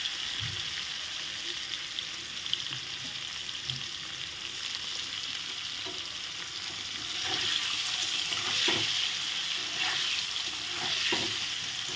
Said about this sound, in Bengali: এখন পনিরগুলো ভেজে নিচ্ছি